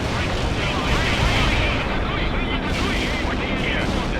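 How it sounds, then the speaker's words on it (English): Carpet bombing in the video game World in Conflict, a dense, loud continuous roar of overlapping explosions and rumbling blasts with no pauses. "we have bombers on the way. Carpet bombing."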